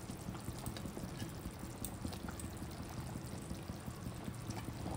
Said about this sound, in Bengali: দেখো এই দেখো মাছগুলো দিচ্ছি, দেখছো বন্ধুরা?